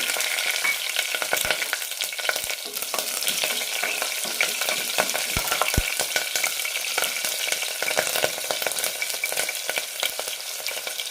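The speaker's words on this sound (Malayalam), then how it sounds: "ജീരകം പൊട്ടിക്കഴിയുമ്പോൾ അരിയിടാം" Cumin seeds and green chillies splutter in hot oil with cinnamon, cloves and bay leaf, a dense, close crackle of rapid pops and sizzling throughout, no voices.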